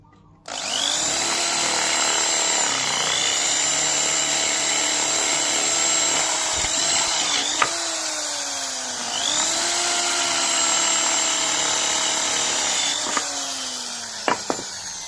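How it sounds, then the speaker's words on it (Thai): A power drill runs loud and close in two long whining passes, its pitch sagging under load and recovering, with brief pauses and small clicks between bursts. "เดี๋ยวจะเจาะให้เบิ่งครับ"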